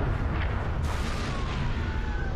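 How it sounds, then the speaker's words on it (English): A Wraith plasma mortar shot lands in Halo 3: ODST on the Coastal Highway, a single heavy booming impact over a continuous low rumble, fairly loud and alone without talk. "We got Wraith shots coming in the back"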